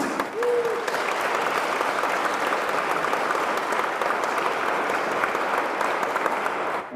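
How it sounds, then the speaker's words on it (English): An audience at a Safe Streets community meeting at Great Overland Station breaks into sustained, even applause from many hands, with a short vocal whoop near the start. "we need to give one more round of applause to Jamie"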